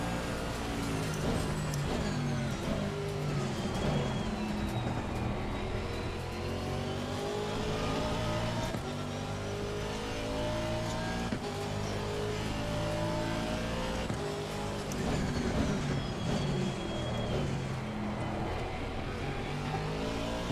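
An Austeam ATR1000 race car lapping a track, its engine droning continuously with rising and falling pitch as it shifts and accelerates through corners, heard from inside the car, steady and fairly loud without talk.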